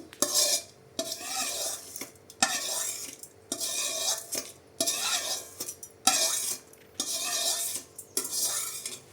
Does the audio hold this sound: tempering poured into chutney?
yes